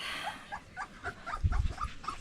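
High, thin whimpers and yips from young puppies, several overlapping cries in quick succession, close by.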